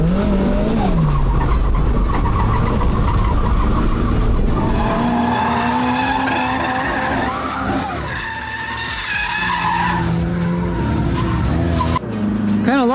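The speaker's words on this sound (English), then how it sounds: "You just push the freaking gas pedal down until the car drifts" A Nissan 240 drift car skids around a race track, its tires squealing in long, loud, sustained howls over a roaring engine that rises and falls through the slides.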